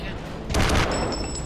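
Tank cannon fire in the World of Tanks video game, a single loud, heavy blast booming up close and rolling out over about a second, with a brief ringing tail afterward.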